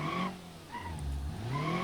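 Ibishu Pessima with four-wheel steering drifting in BeamNG.Drive, its tires squealing in repeated bursts over a steady engine drone, loud and close with no talk.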